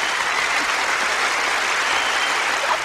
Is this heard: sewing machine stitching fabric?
no